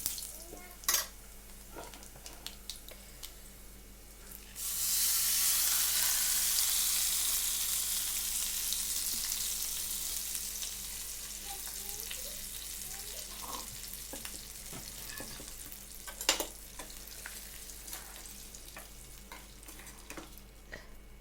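A sudden burst of crackling sizzle as cumin, curry leaves, garlic and chana dal hit hot oil for tempering, fading gradually, with a few clinks of utensils before and after.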